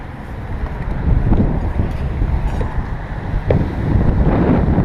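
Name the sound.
wind outdoors while setting up tent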